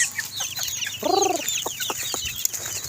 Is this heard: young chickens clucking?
yes